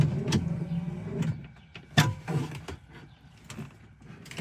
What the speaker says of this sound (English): Wipers work good.